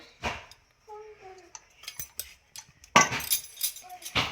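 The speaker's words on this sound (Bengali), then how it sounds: "আমি কিন্তু কড়াই বসিয়ে দিয়েছি আর দিয়ে দিচ্ছি হচ্ছে তেল" A metal wok (kadai) set down on a kitchen stove and oil poured in, heard as clanks and clinks of cookware with scraping in between, under intermittent talking.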